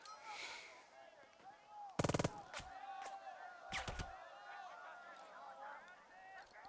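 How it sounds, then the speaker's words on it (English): Bursts of suppressive gunfire in the WWII strategy video game Burden of Command, a sharp automatic volley and a few scattered shots under a background hum, with game voices talking. "Suppressive fire!"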